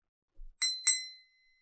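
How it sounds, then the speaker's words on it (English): An antique-looking bell is rung twice, giving two bright, clear dings close by, the second ringing out and fading over a quiet background after a soft thump. "Imagine this is an antique bell, Eleanor."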